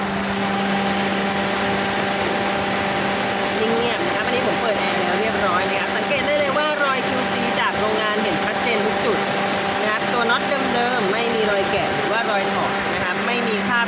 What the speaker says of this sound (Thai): เดี๋ยวเรามาฟังเสียงเครื่องกันดู